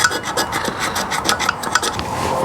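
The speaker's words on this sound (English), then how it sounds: "Stuff down in the bowl. Yeah, let me scrape." Scraping debris out of an engine bowl with a hand tool: steady close rasping strokes in a quick irregular rhythm, gritty and dry, continuing alone without talk.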